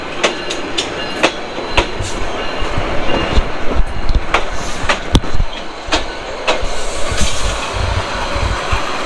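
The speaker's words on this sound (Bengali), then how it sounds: "এই যে একটা ট্রেন আসলো" The Kurigram Express passing on a crossing near Rangpur, loud rhythmic clickety-clack of wheels over rail joints with rumbling carriages and occasional metallic squeals, close by and sustained.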